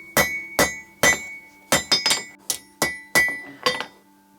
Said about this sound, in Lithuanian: Kalu dabar rankeną, nutempinėju į galą, kad būtų mažesnio diametro.